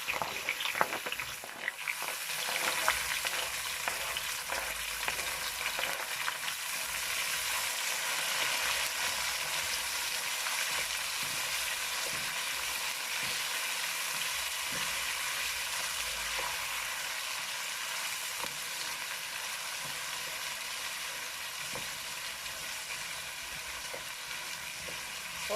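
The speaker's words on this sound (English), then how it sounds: "Then I'm gonna start by frying up all my" Steady, crackling sizzle of seasonings frying in hot oil for Jamaican ackee and saltfish, continuous and close, with faint stirring scrapes and no voices.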